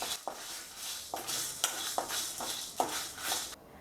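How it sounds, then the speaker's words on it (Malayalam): Whole coriander seeds, cumin and dried red chillies are dry-roasted in a pan, with a soft crackling hiss and repeated stirring scrapes at a steady rhythm, close and fairly quiet. "നമുക്കിനി മല്ലി, ജീരകം, വറ്റൽമുളക് ഇത്രയും ചേർത്തിട്ട് നമുക്കിത് നല്ലതുപോലെ ഒന്ന് വറുത്തിട്ട് കൊടുക്കാം."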